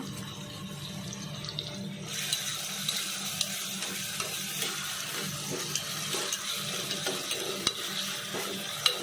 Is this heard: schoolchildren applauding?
no